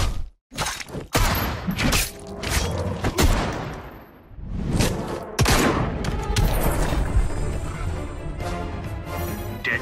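Deadshot's super move in Injustice 2 lets loose a barrage of loud gunfire: rapid bursts of shots and sharp impacts, with a booming hit and shattering crashes, then a sustained rumbling tail.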